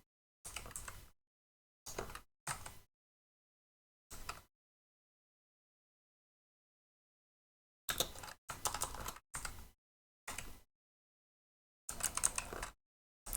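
Short bursts of typing on a computer keyboard, separated by silent pauses: a few quick clusters early on, then a denser run of rapid keystrokes later, close and clear with no voices.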